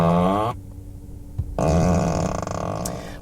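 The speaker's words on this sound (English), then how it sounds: "You can literally select which fart you want." A Tesla Model 3's whoopie-cushion fart sound effect played through the car's speakers while parked: two loud, buzzy, tonal blasts separated by a short silence, close and clear.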